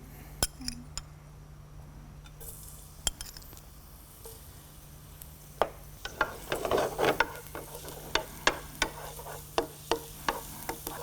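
Finely chopped garlic frying in soybean oil in a pan during a home cooking show, a soft sizzle under scattered utensil clinks and stirring taps that grow busier and louder toward the end.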